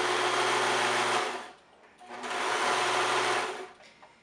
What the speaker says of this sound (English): Just going to sew all the way down